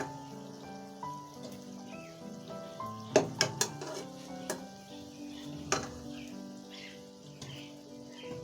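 Fried balushahi pastries dropped into sugar syrup, a run of soft splashes and clinks of pan and utensils around the middle, over a low steady background hum.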